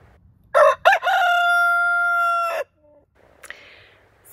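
A New Hampshire Red rooster crows at night after the flock has settled: one loud, close cock-a-doodle-doo with a long, sustained final note, followed by near silence and a few faint, soft clucks.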